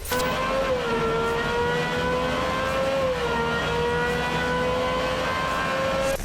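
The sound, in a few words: hypercar engine revving on a dyno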